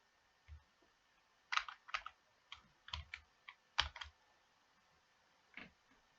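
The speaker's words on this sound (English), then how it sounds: "Type in the quantity you would like to purchase." Keys are tapped on a computer keyboard in short irregular bursts of crisp clicks separated by quiet pauses, close and clear with no talking.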